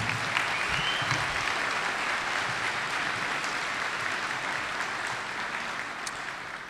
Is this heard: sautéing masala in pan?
no